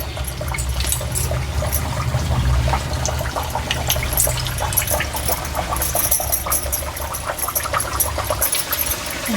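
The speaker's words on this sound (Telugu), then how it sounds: "నేను మనకి కొంచెం గోల్డ్ కలర్ వచ్చేంత వరకు డీప్ ఫ్రై చేసుకోవాలి" Instant ariselu, a sweet rice-flour snack, deep frying in hot oil until golden, giving a steady, fairly loud broadband sizzle and crackle with a low rumble underneath, continuous for the whole stretch with no talking.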